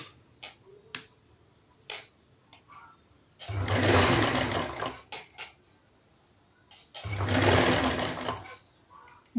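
Two runs of sewing machine stitching on a blouse sleeve, each a steady whirring burst of about two seconds, separated by soft clicks and handling taps at close range with no talk.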